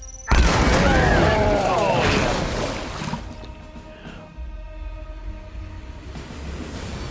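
A grenade exploding in Warhammer 40k: Chaos Gate, a loud, close boom with rumbling debris that lasts about three seconds, then fades into a low mechanical drone and ringing tones.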